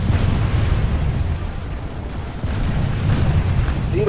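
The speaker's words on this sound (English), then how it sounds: "Now it's just shooting." Dense, continuous gunfire and explosive booms fill a Biolab Takeover battle in a video game, loud and rumbling without pause, with no talk over it.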